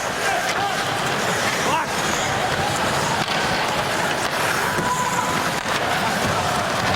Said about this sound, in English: The crowd trying to help him out here.